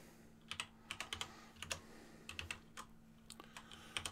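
Keystrokes on a computer keyboard come in short, uneven bursts of clicks, close and fairly quiet, with a low steady hum underneath.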